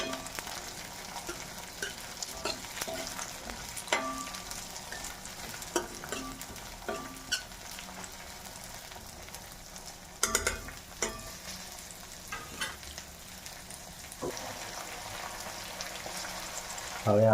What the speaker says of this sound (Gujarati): હવે આપણે આ લીલી તુર નાખી દેવી. બરાબર તેલમાં ચેડવી લેવાની છે.